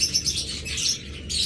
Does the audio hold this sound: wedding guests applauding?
no